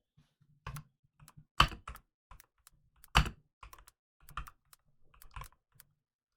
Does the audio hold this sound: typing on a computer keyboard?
yes